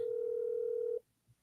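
A steady telephone ringback tone holds for about a second, then cuts off into near silence with a faint bump afterward.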